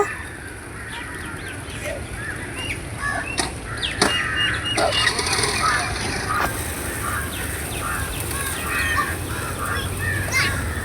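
A flock of pigeons in Cubbon Park, Bengaluru, on a morning outing makes scattered calls and flutters over a constant outdoor murmur, with people chatting at a distance.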